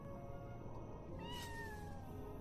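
A cat in an alley lets out one long, wavering meow that rises and then trails off over a quiet background hum, with a brief knock at the end.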